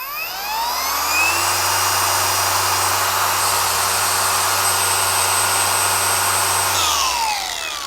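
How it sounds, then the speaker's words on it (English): A cordless polisher for auto detailing runs steadily at full speed, a loud sustained motor whine with a high tonal hum that spins up at the start and winds down near the end, with no talking. "I would say the noise levels, medium to high in my opinion. It's got a little bit of motor noise."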